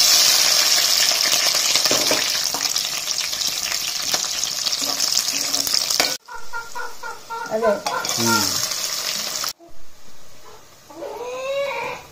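Spices tempering and frying in hot oil, with stirring, while a native country chicken curry is cooked in a village field setting. A loud, steady sizzle fills the first half, then turns choppier with scraping stirs, and brief bird calls break in near the end.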